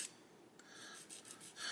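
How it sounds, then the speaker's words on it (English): Sandpaper rubbed lightly over a plastic part from a 1/48 scale M1A2 Abrams model kit, giving soft, faint rasping strokes that repeat every few tenths of a second, close up with no talking. "just using the friction of the sandpaper to do the work"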